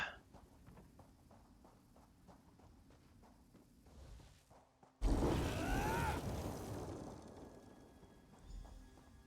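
Lightning form spell in The Elder Scrolls Online sets off a sudden loud crackling burst that rolls on like thunder over rain-like noise, after a quieter stretch of steady rainfall and soft footsteps.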